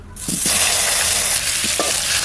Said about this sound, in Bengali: ওই তেলের মধ্যেই আমি আলু কটা ভেজে নেবো